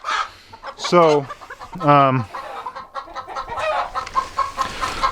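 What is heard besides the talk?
chickens clucking on a farm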